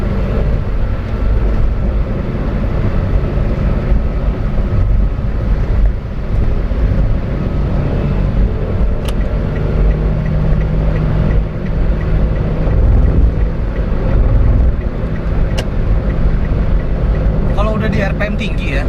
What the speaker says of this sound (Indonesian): ini suara VVTi-nya enak nih